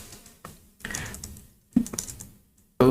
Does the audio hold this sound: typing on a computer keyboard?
yes